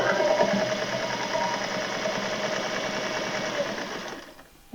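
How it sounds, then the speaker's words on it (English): A sewing machine stitches along a line on a small fabric project, a fast steady mechanical whirring rhythm running close and continuous, then stopping abruptly near the end. "And now we're going to sew on the line."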